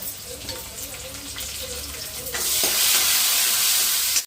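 Chillies fry in hot oil for a drumstick-leaf rasam tempering, a close sizzle with stirring that jumps to a louder, brighter hiss halfway through before cutting off abruptly.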